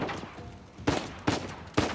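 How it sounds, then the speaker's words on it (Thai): Gunfire from the video game Uncharted 4, with three sharp shots at even intervals cutting through a steady layer of game noise, fairly loud and with no talk. "ปืนกลมาจากไหน"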